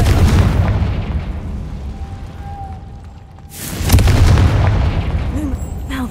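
A Confringo fire spell in Hogwarts Legacy bursts with a loud, sudden blast midway, rising from a low rumbling background and trailing off into a sustained roar.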